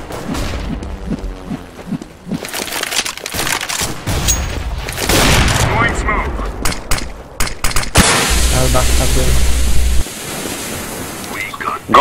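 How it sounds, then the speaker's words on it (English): A flashbang grenade goes off during a first-person shooter match with a sudden loud burst and a lingering high-pitched hiss afterward, amid scattered gunfire and busy game noise, with players' voices talking over it. "Throwing flashbang."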